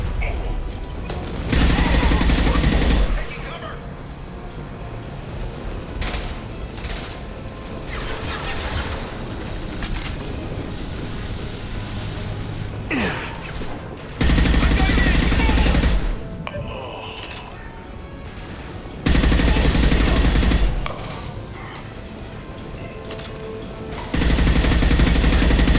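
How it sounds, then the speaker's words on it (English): Concussive shot weapon firing in Mass Effect Legendary Edition, heavy booming blasts that come in four separate loud bursts over continuous game noise and rumbling mechanisms. "Firing concussive shot"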